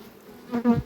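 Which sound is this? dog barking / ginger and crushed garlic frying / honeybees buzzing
honeybees buzzing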